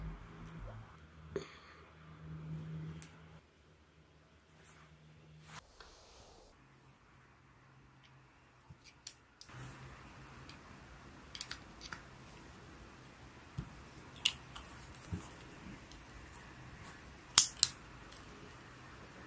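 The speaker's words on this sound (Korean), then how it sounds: "이 롤캡에 D 모양 화약을 한 발씩 가위로 잘라서 한번 이 홈에 끼워 보겠습니다." Scissors snip a roll cap strip into single D-shaped caps for a 1968 RMI-MGC Derringer model gun, giving a series of sharp, quiet clicks and cuts scattered over a soft background, with no talking.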